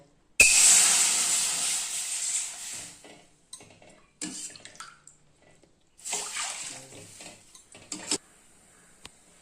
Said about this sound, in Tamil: தண்ணி நல்லா கொதிக்க ஆரம்பிச்சிச்சுங்க.